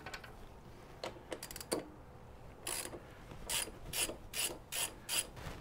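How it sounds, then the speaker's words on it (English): A T40 Torx bit socket threading a rear brake caliper bolt on a Twin Cam Softail motorcycle, heard as a series of short ratchet clicks and metallic ticks, close and clear with no talking. "Take your T40 Torx bit. And that thing should thread in there relatively easily."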